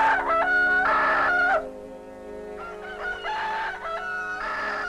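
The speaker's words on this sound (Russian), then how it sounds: "Солнце вставало над нашим аулом только после кукареканья Джафара." A rooster in a mountain village crows loudly nearby, twice in succession with a short pause between, its long strained calls ringing clearly.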